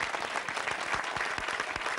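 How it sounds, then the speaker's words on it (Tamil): Steady applause from an audience at a Tamil-language talk, many hands clapping densely and continuously at moderate volume for the whole stretch, with no voices above it. "இவங்களுக்கு ஒரு பெரிய கைத்தட்டல் கொடுத்துக்கலாம்"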